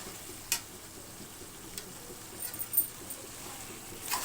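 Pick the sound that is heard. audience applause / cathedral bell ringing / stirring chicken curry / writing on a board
stirring chicken curry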